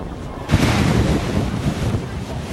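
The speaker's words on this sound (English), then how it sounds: "powerful gusts and torrential rain caused widespread flooding and generated high tides" Typhoon Rammasun batters the coast of Guangdong, China, in news footage: loud wind buffets the microphone as waves roar and surge in a continuous rough wash.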